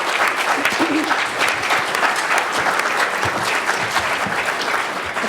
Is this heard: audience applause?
yes